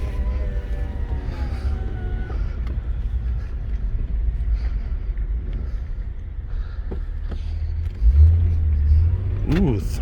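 A 2008 Acura TL Type-S engine pulls under throttle on a test drive, with a steady low rumble, rising engine tones and a louder surge near the end, heard from inside the cabin.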